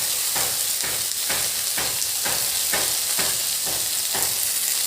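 Ginger garlic paste and onions sizzle loudly in hot oil, a dense steady crackle broken by regular scraping stirs about every half second, with no voices.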